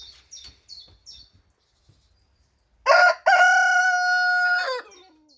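A rooster crows loudly and close by, one long drawn-out call after a few faint chirps and a short pause.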